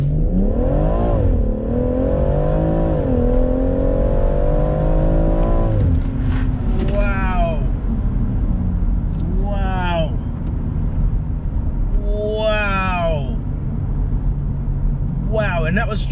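A BMW M140i with a JB+ tuning box accelerates hard from a stop, its engine note climbing loudly, then three quick sharp gear-change revs in rapid succession, close and strong.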